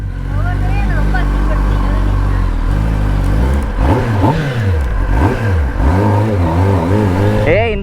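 A superbike engine revving close by, rising and falling in repeated pitch swells and drops, with people talking over the steady engine drone.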